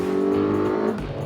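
The Suzuki GSX-S1000GX motorcycle's superbike-derived engine revs in a steady, loud, close drone. The pitch shifts slightly as the note drops away near the end.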